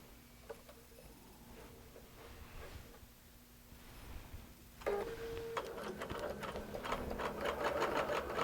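A QBOT V3 robotic quilting system driving a sewing machine: a soft hum at first, then the needle starts a fast steady stitching rhythm, close and continuous, with no voices.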